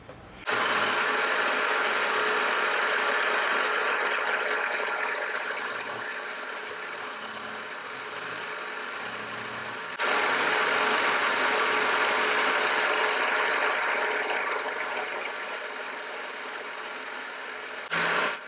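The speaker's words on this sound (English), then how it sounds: "now I'm machining the other end" A milling machine cuts the end of a metal radius table in a steady, loud whirring grind that drops slightly in level midway, pauses briefly, then resumes for a second pass.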